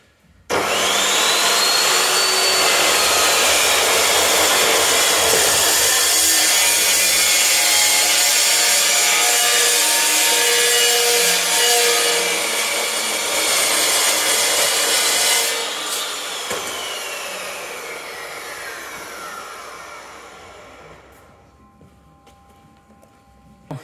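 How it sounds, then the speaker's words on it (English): Steel lengths for a 4x4 chassis dyno frame being cut with a power saw, a loud continuous grinding, rasping whine that holds steady for about fifteen seconds, then winds down and fades as the blade spins to a stop. "I'm going to cut a couple of lengths of steel now to weld across the front and the back at the bottom"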